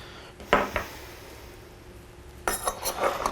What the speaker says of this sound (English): We're going to go ahead and dump in our half a cup of tomatoes as well.